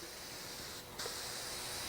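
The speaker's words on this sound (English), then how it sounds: "I always spray the box to get it coming out good." A spray gun sprays primer onto Solartex fabric in a steady, faint hiss that briefly dips and then resumes slightly stronger.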